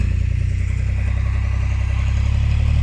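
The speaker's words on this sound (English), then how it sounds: "this tractor with a fork in front" A farm tractor fitted with a front fork for moving straw bales idles close by, a loud steady low engine throb with an even pulsing rhythm and no talk.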